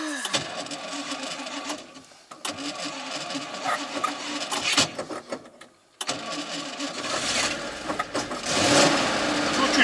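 A GAZ 3307 truck engine idles and warms up after starting, a steady mid-range running hum with a brief dip partway, as people talk nearby.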